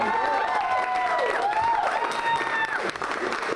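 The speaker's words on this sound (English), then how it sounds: "Let's give a round of applause to the man in the white hat, Chef Shandell." An audience applauds and cheers for a chef at a live morning show, a brief burst of clapping and crowd noise.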